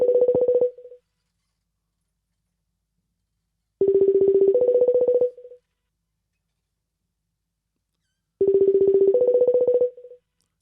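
Loud telephone dialing tones come in three separate bursts, each a rapid run of keypad beeps that ends in a brief steady tone, with silence in between.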